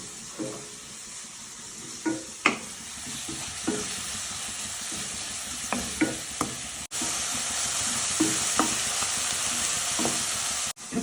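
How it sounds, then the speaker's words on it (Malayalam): Crushed onion and chili with salt sautéing in a pan, a steady close sizzle with scattered scraping stirs and clinks of a utensil against the pan, the frying hiss growing louder toward the end. "ഉള്ളിയും മുളകും ഉപ്പും കൂടി ചേർത്ത് ഇട്ടു ഇത് നമുക്ക് നല്ലോണം വഴറ്റിയെടുക്കണം"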